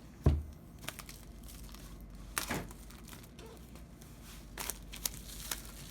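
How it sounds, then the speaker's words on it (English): A plastic pull tab is torn away from the packaging of a 2018 MacBook Air box, giving a few short crinkling, ripping bursts of plastic at close range, separated by quieter handling. "now I'm gonna be doing another pull tab"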